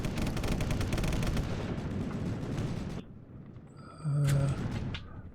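Soldiers trade gunfire in the shooter Sniper Elite: dense, rapid crackling shots and bursts fill the first few seconds, then sparser distant cracks and a short tonal sound follow.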